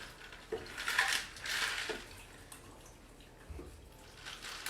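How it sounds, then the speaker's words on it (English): Drinks poured into small glasses packed with ice, with splashing, trickling liquid and faint clinks of ice against glass, moderately close in a quiet kitchen setting. "I'm gonna pour these out for us."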